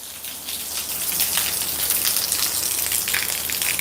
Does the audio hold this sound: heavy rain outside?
yes